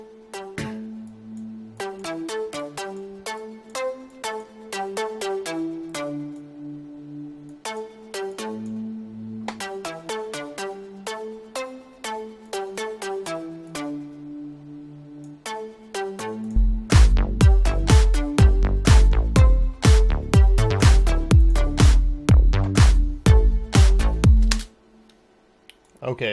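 Nu-disco lead synth from u-he Hive under compression, a bright plucky arpeggiated line playing alone, then joined midway by a punchy kick-driven beat that lifts the level before cutting out near the end.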